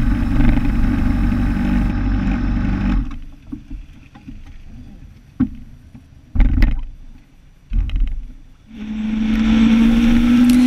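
A motorcycle rides through Angeles Forest north of Los Angeles, its engine droning loudly at first, then dropping to a quieter idle-like rumble with brief bursts and wind buffets before climbing back to a strong rising whine.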